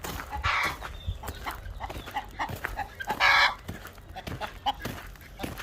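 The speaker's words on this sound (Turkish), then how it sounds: "Emanet tavuğumuz Bünyamin abinin tavuğu" A hen clucks repeatedly up close in short choppy bursts, with a couple of louder squawks rising over scattered farmyard noise.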